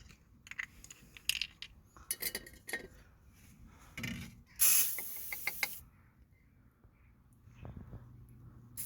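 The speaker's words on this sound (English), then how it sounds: "we're gonna apply plenty of WD-40 on them" WD-40 is sprayed onto the front anti-roll bar drop link bolts of a Vauxhall Opel Combo van. One sharp, hissing spray burst lasts about a second, set among light metallic clinks and tool handling nearby.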